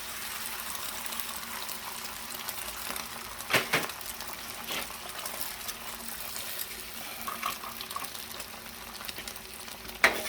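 Pre-scrambled eggs spread across a hot Blackstone griddle for fried rice fry with a steady, moderate sizzle, broken by a few brief scraping and spatula sounds.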